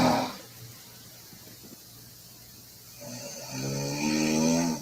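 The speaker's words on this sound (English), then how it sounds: "Me snoring in Maine." A girl snores in slow, steady breaths, a quiet rasping inhale followed by a louder, buzzing stretch that swells toward the end, close and alone.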